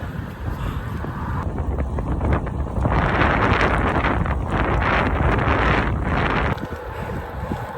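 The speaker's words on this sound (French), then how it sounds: "Ah, le vent. Pas moyen de m'en tirer." Heavy wind buffeting a microphone while cycling across the Canadian prairie, a loud rumbling roar that swells and stays dense through the middle, with no one speaking.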